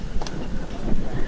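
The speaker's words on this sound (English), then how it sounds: "Wind really gusting around." Strong gusting wind buffets the microphone outdoors at a doubles ball-game tournament, a loud, steady low rumble with uneven surges.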